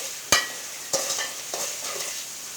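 Spices sauté in a pan with a splash of water for a rohu fish curry, a soft steady sizzle punctuated by a few sharp clinks of a spoon against the pan, close by.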